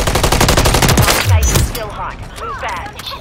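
Rapid gunfire in a tactical first-person shooter during a ranked bomb-defusal round, loud bursts of repeated shots up front, then fading into scattered game effects and distant action.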